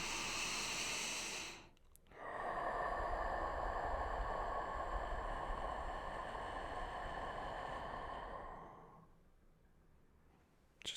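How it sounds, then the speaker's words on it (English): One deep belly breath: a long, airy inhale of about a second and a half, a brief pause, then a slow steady exhale that streams for around six seconds before tapering off, close and soft with no speech. "Just take a deep breath into your belly,"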